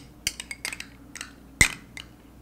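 A utensil clinks against a bowl while mayonnaise is stirred into a tofu sandwich spread, several sharp light taps in an irregular rhythm with one louder knock, close and clear, no talk.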